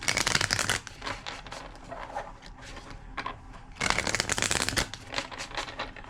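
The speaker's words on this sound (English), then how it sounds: "Two more shuffles." A deck of cards is riffled and shuffled repeatedly up close, crisp rapid flutters in several bursts with short pauses between.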